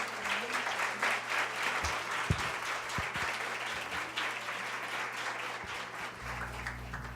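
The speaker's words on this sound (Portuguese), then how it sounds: "Uma salva de palmas, por gentileza." Audience applause at a talk on women's economic empowerment in Brazil: a moderately quiet, even patter of many hands that carries on throughout, with a few sharper knocks and a low hum underneath.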